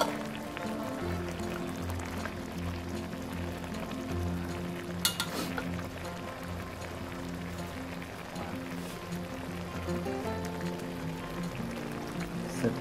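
Pla swai fish curry with holy basil leaves simmering in a pot, a steady close bubbling and sizzling texture running throughout with small pops and one brief sharper clatter midway, no voices.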